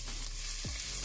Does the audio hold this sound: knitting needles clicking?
no